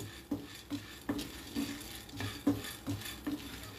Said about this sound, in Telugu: శనగపప్పు ఒక కప్పు అండి. బాగా వేగాల. బాగా వేయించుకోవాలండి.